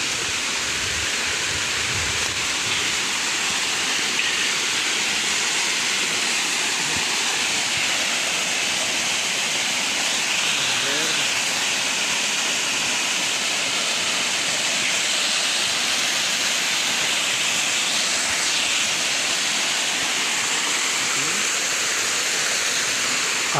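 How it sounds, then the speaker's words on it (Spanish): A waterfall roars continuously nearby at the end of a hiking trail, a dense, loud, unbroken rush of falling water that covers the whole stretch, with no talking over it. "Hemos encontrado la hermosa cascada."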